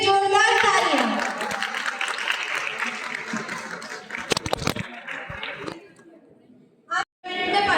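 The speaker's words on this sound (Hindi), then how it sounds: "एक बार उन सभी माय भारत वॉलंटियर्स के लिए भी जोरदार तालियां" A crowd claps for volunteers at a school anti-drug event in Pithoragarh, with sustained dense applause and voices that taper off and fade to near silence after several seconds.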